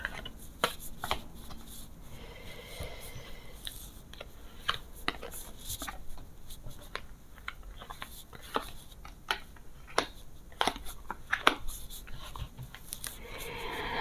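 Tarot cards being handled and drawn from a spread laid out on a table, a series of soft, dry, close slaps and flicks of card stock spread through the quiet, with faint rustling in between.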